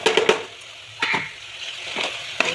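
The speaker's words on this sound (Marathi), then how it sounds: "छान 5 मिनिट असं फ्राय करणार आहोत।" Soaked rice being fried with dal in a pan for Vidarbha-style khichdi, a soft steady sizzle broken by a few sharp stirring clinks and scrapes, close and moderately quiet, with no voices.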